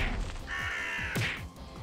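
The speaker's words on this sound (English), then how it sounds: "It's rain and birds." Crows caw in the rain in the video game The Culling of the Cows, a single drawn-out harsh call rising over a steady wash of rain noise, with a brief sharp crash-like hit midway.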